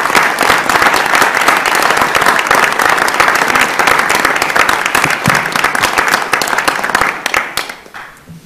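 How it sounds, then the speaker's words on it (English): Audience at a university system board of regents meeting applauding, a loud, dense and steady wash of clapping that holds for most of the stretch before tapering off at the end. "Let's give them all an applause."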